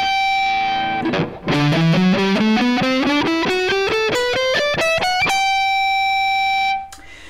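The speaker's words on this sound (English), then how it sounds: "we end up overlapping that pentatonic scale and putting in some passing tones" Distorted electric guitar runs an ascending pentatonic scale with added passing tones, a steady stream of quick sustained notes climbing in pitch, then ending on one held note that rings out alone.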